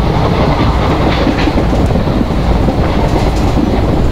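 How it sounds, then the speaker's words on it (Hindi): An Indian passenger train hauled by a locomotive in the Open Rails simulator runs steadily, a loud continuous rumble with faint clickety-clack of wheels over rail joints throughout. "हमारी लोकोमोटिव की एक्सेलरेशन अच्छी है सो अच्छा रहेगा।"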